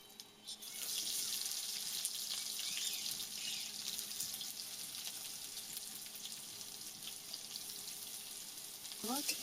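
Chopped onion frying in oil with black cumin seeds for a Bengali prawn and pointed gourd korma, a steady loud hiss and crackle running throughout, with a brief clatter near the end.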